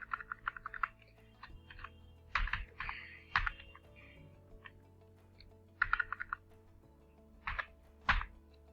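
Keys clack on a computer keyboard while HTML code is typed, bursts of quick close clicks separated by short pauses, with light thunks among the taps and no talking.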